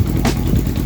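Honda Nighthawk motorcycle idling with no airbox and unsynced carbs, a close, steady low rumbling putter with slight uneven chatter.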